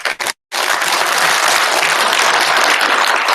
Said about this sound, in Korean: 두 분께 다시 한번 박수 한번.